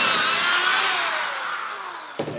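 A power drill bores pocket holes in wood held in a jig, its high whine winding down in pitch, then a short knock or clunk near the end.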